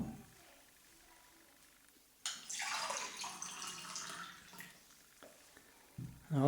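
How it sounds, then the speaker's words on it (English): Water poured out of a container into a glass in an indoor Kangen water demonstration, a close, steady splashing pour of a few seconds that stops abruptly, with no talk. "So what we're going to do now is going to pour out the actual water and put them in a glass."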